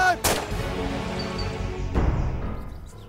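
A single sharp gunshot cracks out, followed by a second duller bang and a fading echo over faint background noise.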